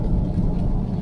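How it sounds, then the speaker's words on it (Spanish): Rain falls again in a steady, close, dense wash with low rumble underneath, with no talk over it. "Ah, se puso a llover otra vez."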